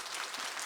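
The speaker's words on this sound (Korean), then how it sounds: "김진호 집사님을 참 박수를 치고 박수 한번 쳐봐요." A church congregation applauding during a service, a brief, steady burst of many hands clapping, fairly soft and even, without voices.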